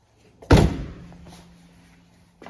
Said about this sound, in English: We're going to close the door now.